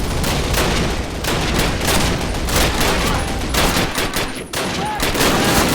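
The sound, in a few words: anti-aircraft gunfire in video game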